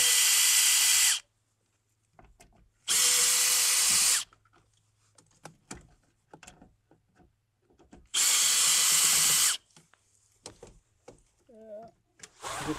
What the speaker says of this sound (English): I decided to use the electric drill because it's a lot faster